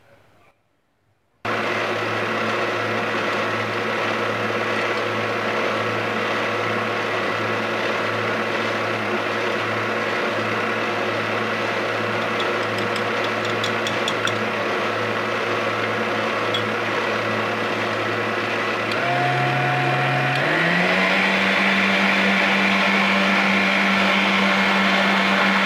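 An electric mixer whirs steadily as it beats eggs, oil and lemon juice into cake batter, starting abruptly after a short silence, then the motor pitch steps up near the end; loud and close.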